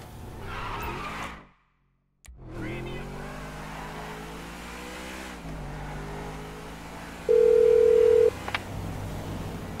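A speakerphone call rings inside the video game GTA V over a steady car engine hum, with electronic dialing and ringing tones, a brief dropout, and a long held tone near the end.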